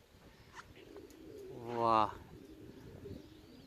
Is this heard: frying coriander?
no